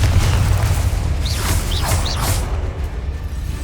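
Spell blasts from Confringo and Bombarda in Hogwarts Legacy boom out in a dense, rumbling battle mix, with several sharp whooshing bursts layered over a steady low roar.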